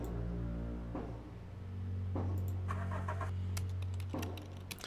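Car halting and a door opening in the video game Consuming Shadow, with a steady engine drone, soft mechanical clunks and scrapes, and brief bright clicks over a tonal game soundtrack.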